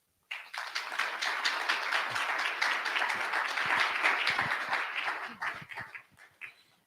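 Sustained applause from an audience at a mental health forum, greeting a speaker after her introduction; dense steady clapping for about six seconds, fading out at the end.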